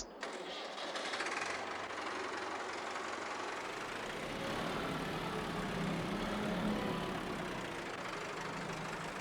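Tractor engine in Farming Simulator 22, a steady mid-pitched idling drone with a faint knocking texture that holds at an even level throughout, with no talk over it.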